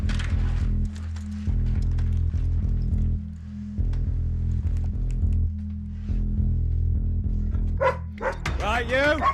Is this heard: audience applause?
no